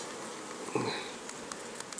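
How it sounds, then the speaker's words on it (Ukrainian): A honeybee buzzes briefly close by at an apiary, a short droning hum over quiet background with faint ticks and rustles. "бджола, бджола, що ти що ти витворяєш?"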